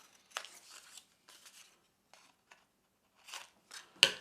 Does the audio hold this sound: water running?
no